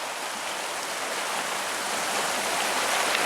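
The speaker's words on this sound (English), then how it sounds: "it's flooded everywhere here" Floodwater after monsoon rains rushing around a house, a steady broadband wash of flowing water and rain that stays loud and constant throughout, with no voices.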